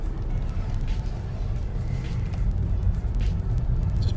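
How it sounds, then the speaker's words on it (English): A manual-transmission car creeps slowly in first gear around an empty cul-de-sac, giving a steady low engine rumble and road noise that continues throughout at close range, with no talking. "put her around in first gear to get a feel of how it is"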